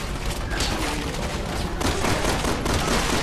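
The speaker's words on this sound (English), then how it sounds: "The army guy is firing a gun and he's shooting the air." An army soldier firing a gun in the video game Resident Evil 6, a rapid fusillade of loud close shots in quick bursts with sharp cracks over a constant noisy background, no talk.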